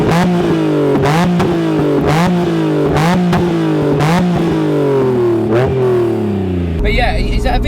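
A Honda NSX engine heard from outside the car, pulsing through rhythmic revs with sharp blips roughly every second, pitch rising and falling, before dropping to a rough idle near the end as people talk over it.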